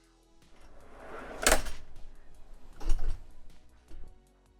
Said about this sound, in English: we have our bike tray on locking drawer slides